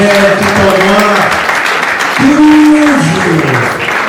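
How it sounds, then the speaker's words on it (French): An audience applauds at the third NZONZING Awards ceremony, a steady wash of clapping mixed with sustained musical tones and voices throughout. "Sous nos applaudissements, Linda, la belle, tout en noir,"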